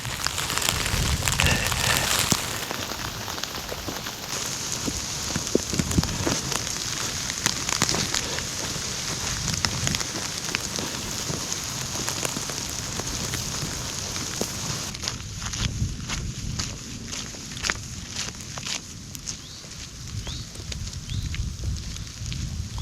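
Rain and hail patter continuously on a tent during a solo camping tour, dense and close with scattered sharper drops, louder at the start and thinning slightly toward the end, with no talk.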